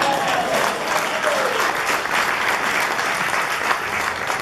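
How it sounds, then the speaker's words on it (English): Wedding guests applaud a newly introduced brother-in-law at a reception in Jasper, Canada, a loud, steady round of clapping sustained throughout, with a brief whistle near the start. "Give a round of applause."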